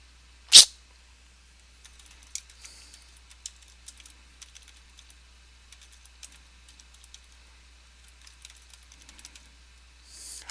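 A link being typed by hand on a computer keyboard: light, scattered key taps spread through the clip at a quiet, uneven pace. A sharp burst comes near the start and a soft noise at the end.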